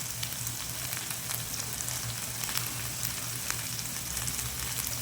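Curry leaves fry in hot oil for a potato masoor dhal, giving a steady, dense sizzle and crackle that holds evenly throughout without any talking.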